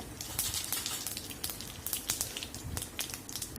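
Mustard seeds and urad dal splutter and crackle in hot oil while tempering for a keerai poriyal, a quiet, steady sizzle with scattered sharp pops and no voices.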